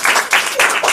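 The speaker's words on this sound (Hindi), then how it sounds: "सभी बच्चे ताली बजाइए।" Children clap together at a Saraswati Puja gathering in a short burst of several quick rhythmic claps, loud and close.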